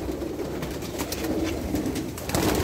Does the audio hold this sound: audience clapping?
no